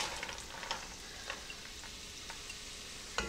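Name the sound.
vegetables sizzling in butter in pan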